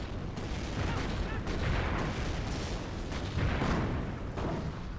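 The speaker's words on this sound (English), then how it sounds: "I believe that was just the mortar barrage" A mortar barrage pounds a video game battlefield, heavy booming explosions rolling over one another under a constant din of gunfire, loud and dense with several stronger thumps throughout and no voices.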